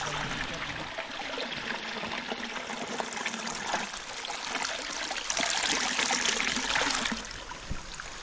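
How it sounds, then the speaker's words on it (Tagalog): Clear water from a spring deep in a forest flows and trickles in a steady, fairly loud rush that swells for a few seconds near the end, with no talking. "Dito po kami sa bukal."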